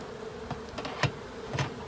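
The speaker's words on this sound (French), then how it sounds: "On voit bien que les abeilles passent à travers, il n'y a pas de souci." Honey bees hum in a low, continuous drone at a hive as a queen excluder and honey super are fitted, faint and steady, with a few brief clicks and knocks.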